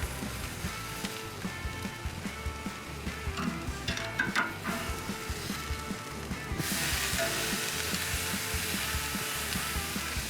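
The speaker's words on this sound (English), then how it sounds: "Can you hear those steaks sear?" Steaks sizzle over a ripping hot grill fire, a steady crackling hiss with tiny pops, fairly quiet and continuous, growing slightly brighter partway through.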